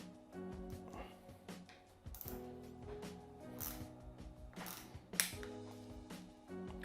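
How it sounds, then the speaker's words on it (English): Bolts on the stem of a new Kinesis e-bike are tightened bit by bit with a hand tool, giving faint, close clicks and scrapes in short bursts. "tightening each bolt up bit by bit"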